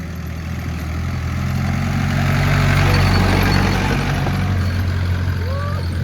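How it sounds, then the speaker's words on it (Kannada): A jeep approaches along a rural path by paddy fields, its engine a low rumbling drone that swells gradually as it nears, then holds steady close by. "ಜೀಪ್ ಬರ್ತಿದೆ."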